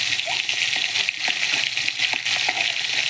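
Fish frying in oil in a pan gives a steady, close sizzling hiss with scattered small crackles and pops throughout.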